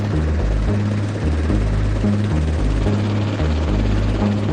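US CH-47 Chinook twin-rotor military helicopter in flight: a loud, steady, deep rhythmic thudding of the rotor blades over a broad engine roar, continuous throughout and without voices.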